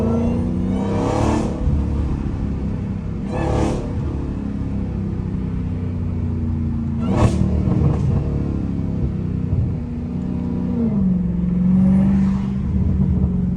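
A Dodge Hellcat sliding sideways in hurricane weather, its engine holding a loud, steady roar with several sharp revving bursts and a rising pitch swoop near the end, no talking.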